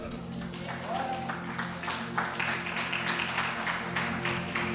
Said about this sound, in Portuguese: E você senta aplaudindo no nome do Senhor.